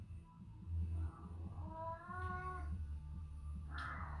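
A cat meows several times, a drawn-out, wavering cry followed by shorter calls, heard close and fairly soft, with no talking.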